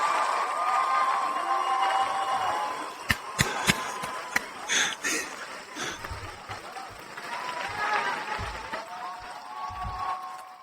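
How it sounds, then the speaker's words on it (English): Podcast crowd giving a long, sustained cheer for the league co-commissioner, steady voices and clapping, with a few sharp knocks partway through and the cheering swelling again near the end. "Wow, that is a long cheer"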